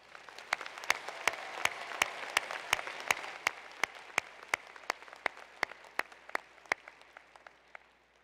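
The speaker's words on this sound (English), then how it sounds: "Give yourselves a round of applause." Sparse applause from a graduation ceremony audience at a business school undergraduate commencement: distinct individual claps in a steady rhythm over a soft, distant wash of clapping, fairly quiet.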